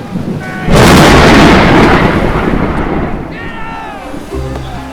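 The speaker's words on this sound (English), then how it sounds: "Lightning struck the mast with a deafening crack." A loud thunderclap from lightning striking a ship's mast in a storm at sea bursts in and rolls on for several seconds over wind and rain noise, then fades as a creaking groan and low rumble follow.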